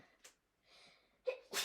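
A single sharp sneeze bursts out close by in a quiet classroom phonics lesson, preceded by a short intake of breath and faint murmuring.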